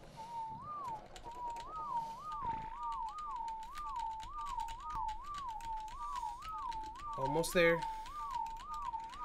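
Repeated rising-and-falling whistle calls to tame and breed animals in ARK Scorched Earth loop rhythmically, under a brief spoken remark and clicky keyboard-like taps.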